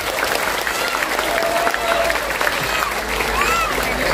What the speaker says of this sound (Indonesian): Untuk pokoknya tepuk tangan dulu mater barang sangat.